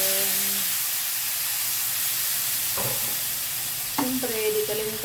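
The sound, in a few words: chicken frying and sizzling in pan for adobo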